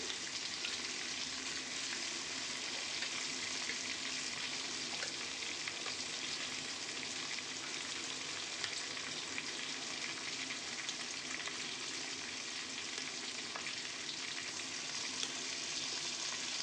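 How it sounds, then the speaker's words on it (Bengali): Spice paste frying in mutton fat in a pan for a black mutton curry gives a steady, dense sizzle that holds evenly throughout, with faint stirring scrapes and no voices. "এবার ভালো করে এই মশলাটাকে কিন্তু চর্বিটার সাথে কষিয়ে নেব।"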